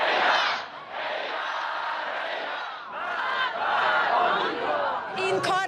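Hundreds of party supporters shout angrily in a dense crowd around Iran's president, a loud, continuous roar of overlapping voices that dips briefly and then swells again throughout.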